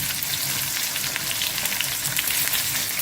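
Chopped onions and small shallots sautéing in hot oil, a dense continuous close sizzle and crackle at steady loudness, with no voices.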